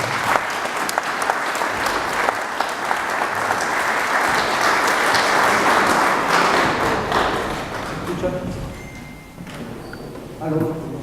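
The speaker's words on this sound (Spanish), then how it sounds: "Démosle un aplauso" An audience applauds steadily at a seminar of former political prisoners, a dense wash of clapping that fills the room and slowly thins out toward the end.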